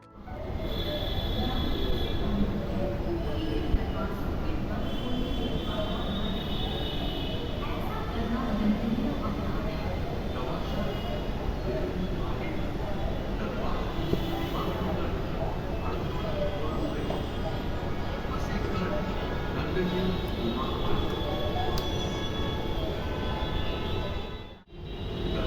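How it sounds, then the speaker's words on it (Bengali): A Mumbai metro train pulls into an elevated station at night, its steady rumble and faint wheel squeal sustained for a long stretch before a brief drop, with a voice talking over it. "যাই হোক, আমাদের বেশিক্ষণ অপেক্ষা করতে হয়নি, ট্রেন আসছে।"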